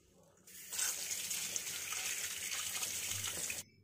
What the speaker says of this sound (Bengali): তো দেখো মাছ ধোয়া হয়ে গেছে